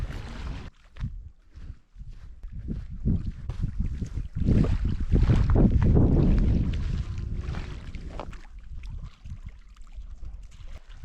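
Gusty wind buffets the microphone in uneven bursts at a nomadic Kyrgyz camp, swelling loudest midway before easing into softer rushing gusts.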